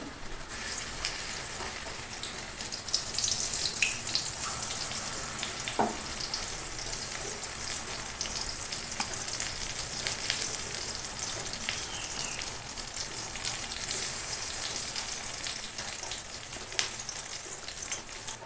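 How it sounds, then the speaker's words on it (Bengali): Pumpkin flower fritters fry in hot oil with a steady, dense sizzle and crackle that runs without a break, fairly quiet and close, with no voices. "কুমড়োর ফুলগুলো ভাজা হতে থাকুক।"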